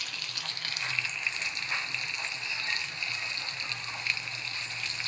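Spicy chicken drumsticks fry in a pan with a steady, soft sizzle and crackle that holds evenly throughout at moderate distance.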